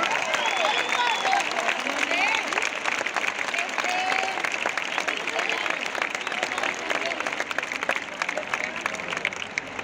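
A concert crowd in Málaga applauds and cheers steadily while band members are introduced, with a voice on the PA speaking over the dense, continuous clapping.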